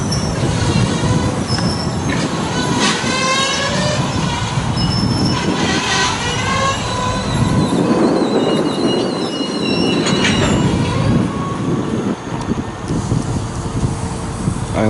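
A CSX freight train backs slowly into the yard lead at Woodbourne Station, wheels squealing in shrill wavering screeches over a loud, continuous rumble of rolling cars close by.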